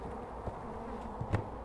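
Honeybees drone around an opened hive, a low steady buzz with a few individual bees passing close, faint and continuous, with no talking.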